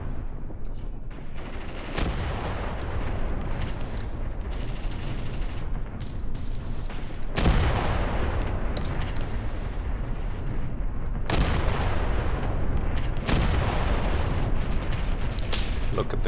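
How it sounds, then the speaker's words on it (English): Artillery shells impact amid burning tanks in a foggy battle in the Graviteam Tactics war game, giving a steady, dense roar of rumbling blasts and crackling fire, with sharper loud booms around 2, 7.5, 11 and 13 seconds. "with the tanks burning in the background, the artillery impacting"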